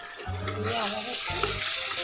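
Onion, ginger and garlic paste sizzle as they are stirred into a cauliflower and pea curry in a hot pan, a steady broadband frying hiss with brief low scraping bursts from stirring, close and fairly loud.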